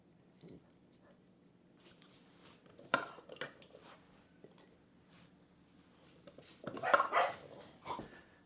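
Indoor pet dogs bark excitedly at a UPS delivery in two loud bursts, one around the middle and one near the end, separated by quieter household clatter.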